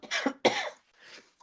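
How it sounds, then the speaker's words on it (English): Two harsh coughs close to the mic followed by a softer throat-clearing rasp, alone without talk. "I apologize for all of this coughing."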